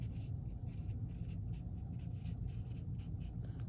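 A pen scratches words onto paper while a bar graph is labeled, close and steady with short rhythmic strokes and brief pauses between words.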